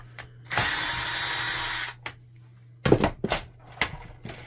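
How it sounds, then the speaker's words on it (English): A screw is driven out of a Canon PIXMA TS5120 printer during teardown: a loud, steady powered-screwdriver whir lasting over a second, then several close, sharp clicks and plastic thunks as the part is handled. "let's remove this screw right here"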